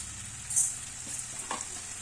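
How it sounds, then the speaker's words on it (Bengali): Spiced bread pakoda filling with chilli, coriander powder, cumin powder and a pinch of sugar is stirred in a pan, giving a steady soft sizzle with a few faint scraping strokes, close by and with no talking. "এবার সবগুলো দিয়ে আমি এবার কিছুক্ষণ নাড়াতে থাকবো"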